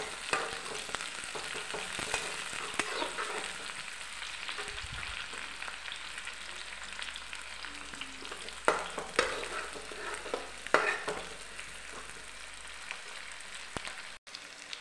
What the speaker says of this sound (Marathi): कांद्याची पात, लहसूण, लसणाची पात, कोथिंबीर परतून घ्या।